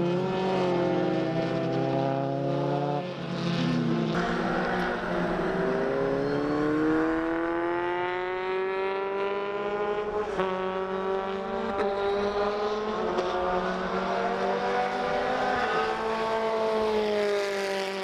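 A Formula 4 race car on slick tyres at Motegi, on a track drying from wet, screams past with a loud, sustained engine note that climbs and falls through the gears. No talking is heard.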